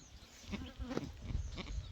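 A goat that has just given birth bleats softly a few times amid quiet rustling on a farm, with the calls fairly close but faint.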